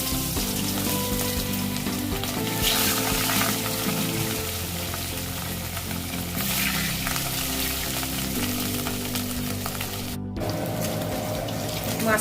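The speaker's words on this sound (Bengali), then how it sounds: "মাছটা ভাজা হয়ে গেছে" Katla fish pieces fry in salted oil, giving a loud, dense, continuous sizzle close up that crackles throughout without voices.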